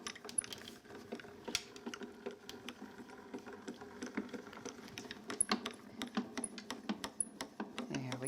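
Embossing folder with a raspberry adapter sandwich cranked through a Grand Calibur die-cutting machine in a craft room, a faint run of small clicks and ratcheting taps, fairly quiet and close.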